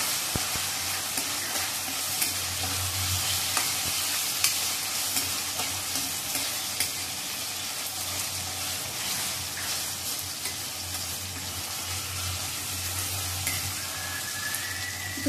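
Chopped onion and tomato with a little salt fry in a pan, sending out a continuous, close sizzle and hiss. Occasional stirring scrapes and clinks break through, with no voices.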